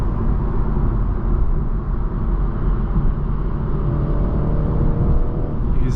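A 2023 BMW 330i M Sport holds fourth gear around 4,500 rpm while being driven, giving a strong, even engine drone with road rumble inside the cabin and no speech.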